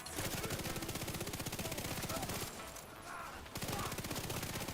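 Rapid SMG fire from the Striker build in The Division 2 rattles nearly nonstop, loud and close, with a short lull near the middle before the fast bursts resume.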